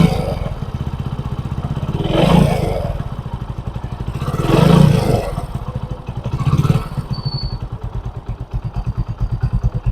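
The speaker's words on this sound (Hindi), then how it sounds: "जब ओरिजिनल पार्ट्स के साथ इंजन जब फिटिंग होता है ना तब उसका साउंड जो है वो अलग ही रहता है" A fully restored old Hero motorcycle engine, rebuilt with original parts, idling with a steady close thumping pulse, rising in three brief revs before settling back to an even idle.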